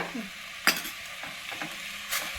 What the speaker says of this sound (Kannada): ಬನ್ನಿ ಇವಾಗ ಈ ಸೊಪ್ಪಿಗೆ 1-2-3 ಸ್ಪೂನಷ್ಟು ಎಣ್ಣೆಯನ್ನು ಹಾಕಿ ಹುರಿಯೋಣ